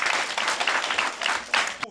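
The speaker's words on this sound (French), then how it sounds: "Applaudissez pour le groupe A." A classroom of children clapping for a group of classmates, a steady burst of quick, fairly close applause that swells and carries on for the whole stretch.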